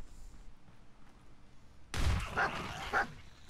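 A dog in the Fallout 4 video game, heard through a sudden loud burst of barking and gunfire-like noise. Two sharp yelps sit within it, after a quiet stretch of faint ambient game sound.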